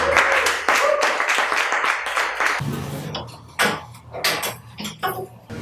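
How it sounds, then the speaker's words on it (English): Scattered clapping from an audience at a tech career event as speakers come up, sharp separate claps early that thin out into a few sparse hand claps and knocks, with faint background noise. "if we could give a big round of applause for Kevin, Joe, Teresa, and Todd"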